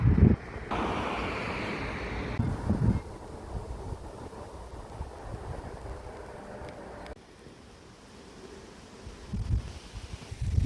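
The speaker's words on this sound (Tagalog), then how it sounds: "Lakas ng hangin." Strong wind gusts outdoors near the woods in autumn, roaring and buffeting the microphone in loud rumbling bursts that ease and swell again, with rustling carried underneath.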